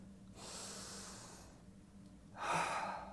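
A group drawing a slow deep breath in during a guided reflection session, a soft airy inhale followed by a louder, sharper exhale near the end, quiet and close with no talking.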